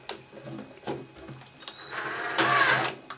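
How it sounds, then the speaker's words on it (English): A power drill bores into the plastic of a Lennox Pulse21 furnace control board. Short buzzing bursts come first, then a steadier high whine that rises and grows louder toward the end. "I'm going to drill this"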